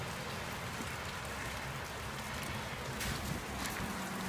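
Steady rain hisses and patters on surfaces during a hailstorm, a dense even wash of drops with no voices.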